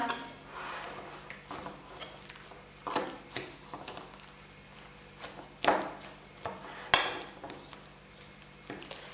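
Egg and banana omelette batter stirred in a bowl, giving irregular clinks and scrapes of a utensil against the dish, close and fairly loud with a few sharper knocks, no talking.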